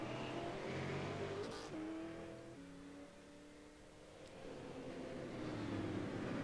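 A race car that has just spun out gets going again, its engine note sagging and then climbing as it accelerates away, with other race engines droning nearby.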